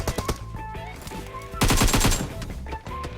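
Rapid gunfire from the PUBG Mobile video game comes as loud bursts of automatic shots, with a dense volley in the middle, under a busy game soundtrack and voices.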